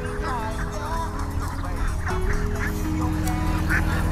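A large farm flock of black-feathered Hòa Lan meat ducks in Vietnam's Mekong Delta makes a dense, continuous chorus of honking calls close by, with faint voices in the background.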